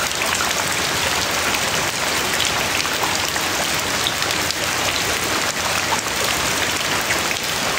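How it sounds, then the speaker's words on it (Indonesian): Steady rain falls hard and close, a dense, even hiss of drops striking surfaces without letup and no one speaking. "Hujan sini hujan."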